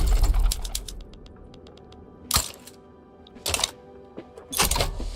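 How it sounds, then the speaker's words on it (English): A clicky keyboard clacks in a few separate bursts of sharp, close key strikes, with quieter ticking between them and no talking. "the keyboard I have now is a clicky one"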